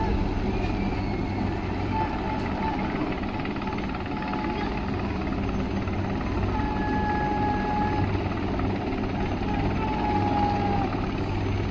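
One Cheetah and two Chetak helicopters fly past during an officer cadet passing out parade, a faint, steady distant rotor drone under the outdoor hum.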